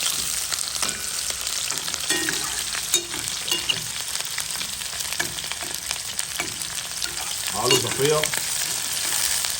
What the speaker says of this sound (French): Je vais revenir les oignons.